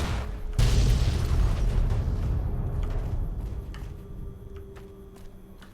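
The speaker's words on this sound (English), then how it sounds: "All those explosions you heard in there, that was me." A sudden loud blast in Fallout: New Vegas bursts out, then a long rumbling roar slowly fades away, with faint crackles in the tail.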